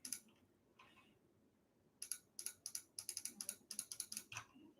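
Computer mouse clicking at a desk, a few scattered clicks followed by a rapid irregular run of sharp, close clicks, fairly quiet.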